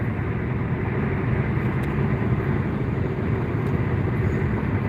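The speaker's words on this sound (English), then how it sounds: "I'm taking you on a car ride." A car driving down a road through Youngstown, heard from inside as a loud, steady road and engine rumble with no talking.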